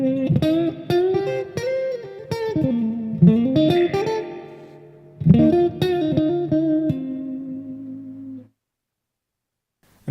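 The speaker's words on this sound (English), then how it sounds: "So that sound only happens when you turn the mix on the reverb too high" Electric guitar played through a Boss Katana 100 head with the spring reverb mix set high, bending notes ringing with a wobbly, drippy tail, a final held chord cutting off into silence, no voices.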